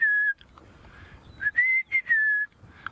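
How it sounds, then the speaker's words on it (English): A rufous-naped lark sings in the Masai Mara, giving clear, whistled phrases with short pauses between them, fairly close and prominent over a faint, low outdoor rumble. "which is a rufous-naped lark"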